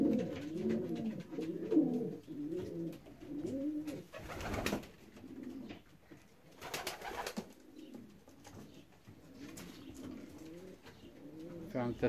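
Racing pigeons coo in repeated low, throaty phrases through most of the stretch, close and steady, after a long 561 km race, with a couple of brief rustling bursts of wing or handling noise breaking in.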